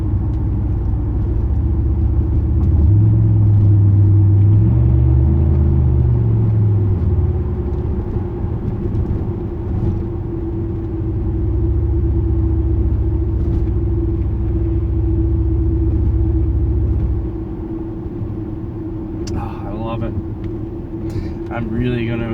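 Interior view of a 2008 Pontiac Grand Prix GXP with a Thrush welded muffler: low exhaust rumble swells under throttle early on, then holds a steady deep drone through cruising before easing off, with a voice talking over it.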